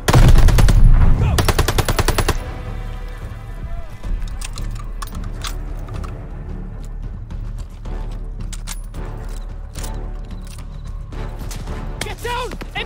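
Loud, rapid machine-gun fire bursts in a Call of Duty: Vanguard battle, dense staccato volleys dominating the first two seconds, then continuing more sparsely amid scattered gunshots and combat noise.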